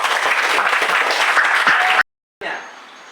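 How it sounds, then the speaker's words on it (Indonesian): A classroom of students applauds during a religious education lesson, dense close clapping for about two seconds before a brief silence and a short quieter tail. "Oke, tepuk tangan dulu."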